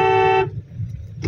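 A single loud, steady car horn blast lasting under half a second, then low background rumble and a faint trailing blip.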